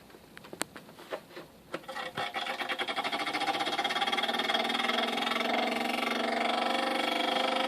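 A broken Juggernog edition mini fridge is switched on: a few clicks and knocks, then a buzzing, rattling hum that builds over a couple of seconds into a loud, steady mechanical drone.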